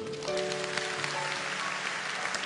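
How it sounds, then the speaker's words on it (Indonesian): Church congregation applauding during a service for children about to perform, a steady dense patter of clapping filling the room with an organ or keyboard tone sustained underneath. "Kasih tepuk tangan dulu."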